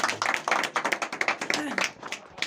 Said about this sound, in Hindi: ताली बजाते